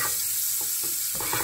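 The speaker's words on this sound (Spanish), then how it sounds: "Ya que el ajo se frió, ahora vamos a agregar los callos." Garlic fries in hot oil and butter for a scallop dish, a brief, close, steady crackling sizzle that swells slightly at the very end.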